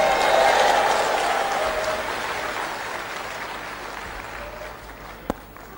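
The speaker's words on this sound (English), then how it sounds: "Clap your hands anyhow." A congregation at a sermon applauds loudly, a dense wash of clapping that gradually thins and fades, ending with a single sharp knock.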